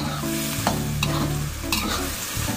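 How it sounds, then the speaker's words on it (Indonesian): A cornstarch-thickened filling is stirred in a hot pan, with a steady sizzle and repeated scraping strokes of the spatula running throughout, close and fairly loud, with no talking. "Kita akan masak terus sampai dia mengental ya."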